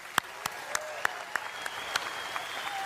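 Steady, evenly spaced claps ring out in a hall at a Reform UK party conference, each sharp and distinct at a slow regular pace, over a constant background hum.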